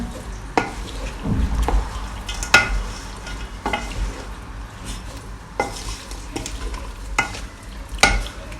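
Potatoes and meatballs frying in a pan, with a steady sizzle under repeated scraping and stirring strokes and occasional clinks of a utensil against the pan, close and fairly loud.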